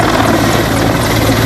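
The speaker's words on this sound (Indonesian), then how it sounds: "ini ada helikopter." Toy helicopter making a steady, loud whirring rotor buzz that continues without pause for a short moment, heard alone.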